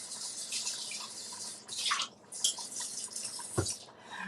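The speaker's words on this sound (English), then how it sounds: "let's rinse this out." Water runs and splashes from a tap while a cooking container used for chili is rinsed out, with a hissing flow, uneven splashes and a few brief pauses, close by and with no talking.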